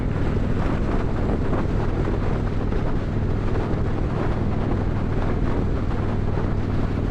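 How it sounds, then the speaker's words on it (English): Steady, loud wind buffets a motorcycle rider on an evening ride through dark and rain between Amarillo and South Fork, Colorado, a continuous low roar with no break. "So the wind isn't hitting me with no barrier like it was before."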